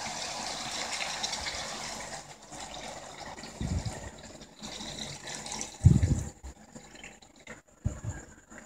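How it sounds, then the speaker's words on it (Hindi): Water poured into mutton karahi that has been sizzling in a pan, a rushing splash with bubbling and hissing, loudest at one point with a heavy thump and then settling into quieter sizzle. "मटन जो अच्छी तरह भुन चुका है, तो इसमें हमने थोड़ा सा पानी ऐड करना है"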